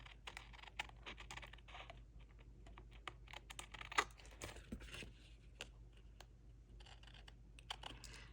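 Scissors or a trimmer cut away excess scrapbook paper, making a quiet run of small clicks, snips and paper rustles in an uneven rhythm, faint and close, with no talk.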